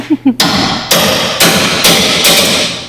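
Heavy fist blows pound on the metal body of a 1964 Ford Galaxie, five loud resonant bangs at a steady rhythm after a short vocal grunt.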